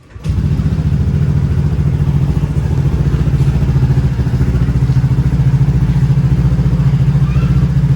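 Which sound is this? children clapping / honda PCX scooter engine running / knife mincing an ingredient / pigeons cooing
honda PCX scooter engine running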